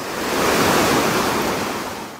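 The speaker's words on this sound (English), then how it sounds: "And then just down there are some waterfalls." Waterfalls along the Mt. Hood Timberline Trail, a continuous broadband rush of falling water that swells slightly and then eases, loud and steady with no voices.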